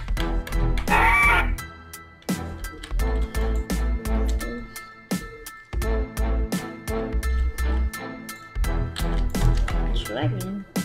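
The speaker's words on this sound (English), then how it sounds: "Gallimimus. Funny call." Gallimimus dinosaur call from an omnivore dinosaur video game, a series of clucking, crowing bird-like cries over a steady rhythmic backing beat, loud and close, with talk in places.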